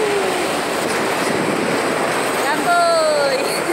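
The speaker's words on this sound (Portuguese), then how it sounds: "E ele vai passar aqui no cruzamento. É o trem, o metrô do Cariri" The Cariri metro train rolls past at a crossing with a steady rumbling roar and a rising whine, while a person talks over the noise.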